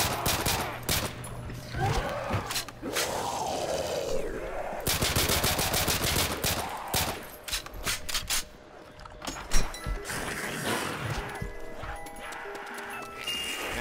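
Vector submachine gun firing in a zombies video game: repeated rapid bursts of automatic gunfire, loud and close, separated by short pauses and mechanical handling sounds.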